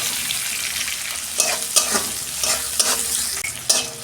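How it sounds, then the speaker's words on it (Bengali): Sliced onions go into hot oil already holding cinnamon, cardamom and cloves, frying with a steady close sizzle while a spatula scrapes and stirs in several sharp bursts. No one speaks. "এই যে আমি পেঁয়াজটা দিয়ে দিচ্ছি। দুটো মিডিয়াম সাইজের পেঁয়াজ দিয়েছি।"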